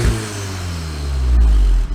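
A Volkswagen Golf on its original exhaust revs briefly, a loud, close engine note swelling and then cutting off.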